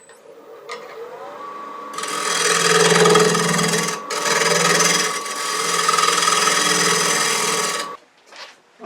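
Wooden shop stool top being trued up on a lathe: a loud, close, continuous scraping and cutting whir with a steady tone, interrupted by one short pause midway, then cutting off near the end.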